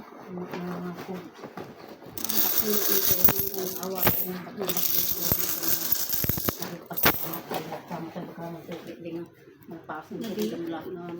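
A heavy bag of coins is poured out, giving a dense, jangling metallic clatter that rises partway through and runs for several seconds amid chatter and people talking nearby.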